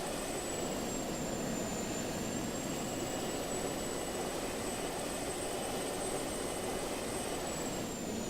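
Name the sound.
airplane engine flying in Just Cause 2 video game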